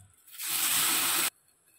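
Water hisses and sizzles under the lid of a covered pan while chitau pitha, a rice and coconut pancake, cooks; one steady burst of about a second rises sharply and cuts off abruptly, with no talking.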